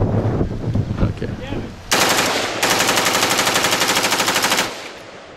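Fully automatic machine gun fire at an outdoor machine gun shoot, a long sustained rapid burst of loud close shots after a brief pause, with people talking and wind noise before it starts.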